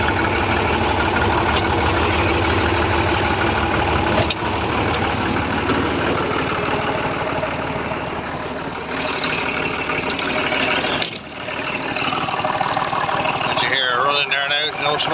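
A warm Massey Ferguson 35 tractor diesel engine, just overhauled, idles steadily with a rough knocking chug, loud and close, with a brief dip partway through.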